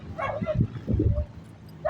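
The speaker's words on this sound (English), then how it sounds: "That dog is not cool right there, making all type of noises." A dog close by gives short yips and whimpering barks in uneven bursts, loud and agitated, with a brief pause between them.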